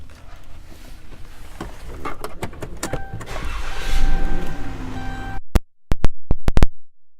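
Power windows whir on a 2016 Dodge Grand Caravan SE, a rising motor hum followed by several short sharp clicks and thumps near the end, close and fairly loud inside the van.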